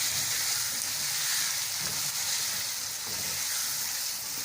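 Tomatoes fry in a pan with garlic and ginger for a chicken and green bean curry, making a loud, continuous close-up sizzle with faint stirring underneath and no voices.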